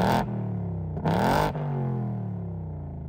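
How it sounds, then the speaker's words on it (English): A 2024 Ford Mustang Dark Horse with a naturally aspirated 5-liter Coyote V8 revs through a dual exhaust in two sharp blips, each followed by a deep, rumbling idle that settles back, loud and close. "Take a listen to the exhaust."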